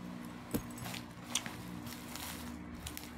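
Keys jangle faintly while a parcel is being opened: a few brief, light metallic clinks scattered over soft background noise, with no talking.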